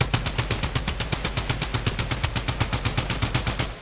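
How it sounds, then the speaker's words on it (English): Rapid automatic drum gun fire in Fortnite, fitted with no sight, a fast steady rattle of about nine shots per second that runs loud and close for nearly four seconds. "Now we have a drum gun without a sight."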